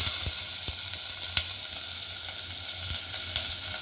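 Chopped onions sautéing in hot sesame oil with a piece of cinnamon, a steady close sizzle with occasional small pops and stirring scrapes, no voices.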